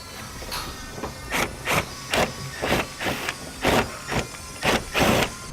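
Short rhythmic bursts of a power tool or ratchet drive a 7mm screw out of the front fascia of a 2017 Chevrolet Equinox where it meets the fender, about nine even pulses close up with no talking.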